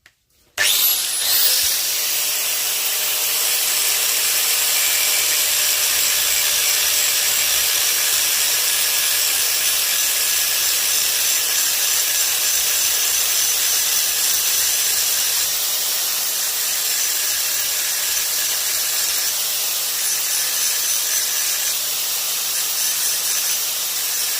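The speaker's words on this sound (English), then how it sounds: "got to keep the actual angle grinder moving at all times" An angle grinder sharpens an axe blade, starting abruptly and then holding a loud, continuous high-pitched grinding hiss that barely changes over more than twenty seconds.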